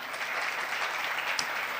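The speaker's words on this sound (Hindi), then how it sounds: "तो इन बच्चों के लिए ज़ोरदार तालियां बजाएं।" A congregation at a live sermon clapping for the young people, a steady wash of applause heard at moderate distance, fairly soft and even throughout, with no speech.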